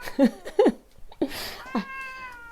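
A cat meows several times in a workplace setting, short nearby calls followed by a longer drawn-out yowl, with faint background sounds between them.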